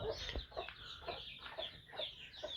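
Hens cluck softly and repeatedly in a backyard coop, a close series of short, uneven clucks about every half second, with no talk.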